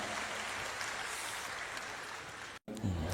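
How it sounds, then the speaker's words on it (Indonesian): Applause from an audience for a university rector at a comedy talk event, a broad, even roar of clapping that holds steady, then cuts out briefly before a low murmur returns. "Tepuk tangan buat rektor kita tercinta."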